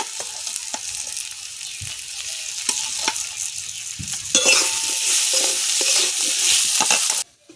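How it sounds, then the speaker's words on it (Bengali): Spices sizzle and fry in a pan for a kochur loti dish with prawns, with steady scraping stirs over the crackle, close and fairly loud, the sizzle swelling in the second half before cutting off abruptly. "সব মশলা ভালো করে কষিয়ে নিয়েছি।"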